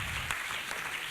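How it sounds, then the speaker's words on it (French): Audience clapping for Luison at a fashion show, a steady burst of applause held at an even level for about a second. "On applaudit pour Luison."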